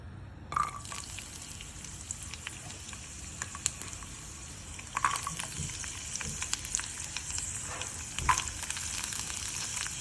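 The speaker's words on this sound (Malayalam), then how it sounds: "ഇതിലേക്ക് ആദ്യം തന്നെ നമുക്ക് തേങ്ങക്കൊത്ത് ഇട്ട് കൊടുക്കാം" Coconut pieces drop into a hot pan and start frying with a constant crackling sizzle, broken by a few sharp spits and pops along the way.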